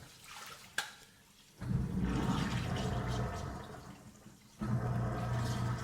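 Tap water runs steadily into and over a Brita pitcher being rinsed at a sink, starting after a brief knock, pausing briefly near the end, then resuming as a loud, close splashing stream.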